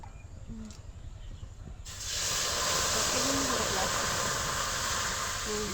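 Hot water hits fried spices in a pan for a jujube pickle, bursting into a loud, steady sizzling hiss that begins abruptly after a couple of seconds of quiet kitchen sounds and a voice, then continues unbroken.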